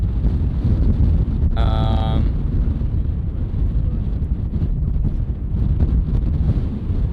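Steady wind on a hilltop at a rocket launch site buffets the microphone in a constant low roar, with a brief tonal whine rising and fading near the start.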